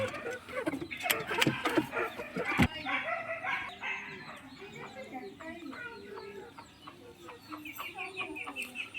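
Sonali chickens, three to four months old, cluck and call in a busy yard, a rooster-like crow among them, with human voices talking over the birds throughout.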